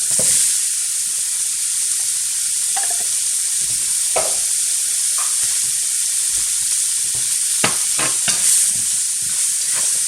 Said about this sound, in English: the next two things I'm going to be adding is the onions, the carrots